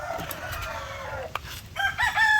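Laying hens cluck softly nearby while a rooster crows out loud and clear toward the end, a short farmyard chorus.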